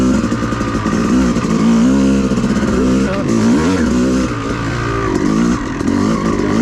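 Off-highway vehicle engine running in third gear on a gravel trail at Brown Mountain OHV area; loud, steady droning motor with wavering revs and rough clatter from the trail, close and continuous throughout.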